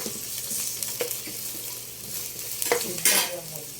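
Garlic, onion, chili and pork stir-fried together in a pan for chapsuey, with a steady close sizzle and the utensil repeatedly scraping and clanking against the pan, one louder stroke near the end.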